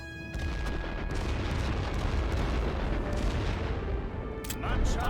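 Artillery and mortar fire from The Great War: Western Front strategy game rumbles in dense, continuous booms and blasts, a heavy low barrage that rolls on without pause and swells slightly at the end.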